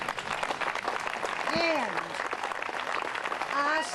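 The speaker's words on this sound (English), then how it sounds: "I would like to give a round of applause to them to say thank you." A crowd applauds at a memorial service honoring Revere's WWII women veterans, with dense, steady clapping filling the whole stretch and a voice speaking briefly over it.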